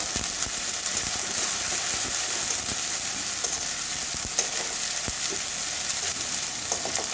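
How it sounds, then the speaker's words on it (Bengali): Ginger, garlic and onion sauté in oil for spiced okra, a loud, steady sizzling hiss with scattered clicks from stirring in the pan, close up and free of talk. "আদা রসুন আর কাঁচা গন্ধটা যাওয়া পর্যন্ত কষাবো"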